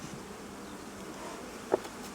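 Soft, continuous buzzing of honey bees around a hive, a low steady drone with one brief louder knock near the end, no talking.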